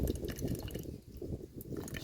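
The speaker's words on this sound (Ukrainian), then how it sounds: "Зараз долью я дощової водички трошки" Rainwater poured into a small container while mixing iron chelate to treat hydrangea chlorosis; a steady, soft, gurgling splash of liquid that runs continuously and dips briefly midway.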